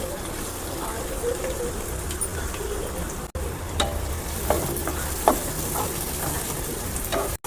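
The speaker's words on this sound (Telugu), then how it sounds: "ఫస్ట్ కళాయి పెట్టుకున్నాను, ఆయిల్ వేసుకున్నాను. ఏంటి ఆనియన్స్ వేసుకుంటున్నాను." Onions sizzle steadily in hot oil in a kadai for a chicken curry, with a constant close frying hiss and a few scraping stirs and clinks. No one speaks.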